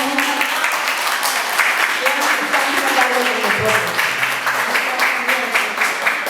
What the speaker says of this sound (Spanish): Yo pido un fuerte aplauso para Mario y para la compañera